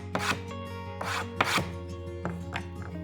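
Hand tool shaving and chamfering the edges of wooden wedges cut for a handmade woodshed, a series of close, sharp scraping strokes in uneven rhythm with brief pauses between them and no speech.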